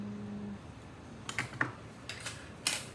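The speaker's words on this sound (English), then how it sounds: "So we can cut the umbilical cord off." A few short snips and clicks from scissors cutting a fetal pig's umbilical cord during a dissection, close and sharp, in two small clusters over a quiet background hum.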